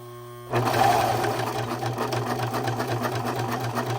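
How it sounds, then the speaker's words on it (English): A serger sewing machine stitching scrap fabric starts abruptly after a faint hum and keeps running in a steady, close, rapid whir until the end. "I'll put my little scrap fabric in there. All right, and then we're gonna sew away"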